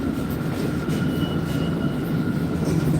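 Steady rumble of a metro train in a subway station, a continuous rolling drone with a faint high tone running through it and no voices.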